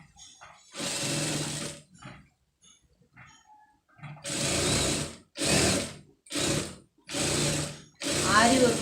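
A sewing machine stitches around an embroidered blouse in several start-and-stop bursts, first one longer run, then a quick series of short loud runs separated by brief pauses.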